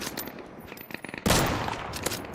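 Gunfire in the survival shooter Deadside, scattered shots at first, then a loud burst of rapid automatic fire that rings out close by, with no talking.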